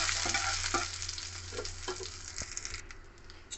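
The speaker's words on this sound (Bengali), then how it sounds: "তেলের থেকে সুন্দর গন্ধ বেরোয়া অবধি 3-4 সেকেন্ড ভালো করে একটু নেড়ে নেবো" Mustard seeds, asafoetida and green chili sputter and sizzle in hot oil while being stirred, a steady close frying hiss with scattered crackles and spoon scrapes, no voices.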